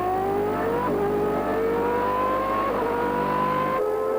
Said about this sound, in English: Mansell was now harrying the Ferrari all the way.